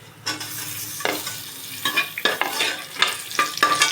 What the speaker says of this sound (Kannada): ಎಣ್ಣೆ ಕಾದಾದ್ಮೇಲೆ ಈರುಳ್ಳಿ ಹಾಕ್ಕೊಳ್ಳಿ